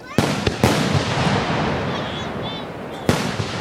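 Large firework mortars burst at a fireworks show, three sharp booms at separate moments with a crackling, rumbling wash between them. Faint voices are audible in the background.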